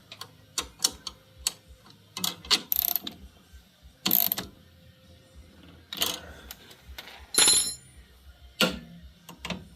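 A ratchet tightens a part while an ice scratcher is fitted to a Ski-Doo 900 ACE snowmobile, giving close, loud bursts of rapid clicking with short pauses between strokes.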